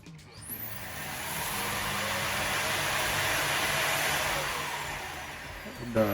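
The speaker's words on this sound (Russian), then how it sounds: "Включаю пылесос." Vacuum cleaner switched on and running steadily for several seconds, a loud broadband whoosh that swells up after a brief start and stays constant before tapering slightly, with no talking over it.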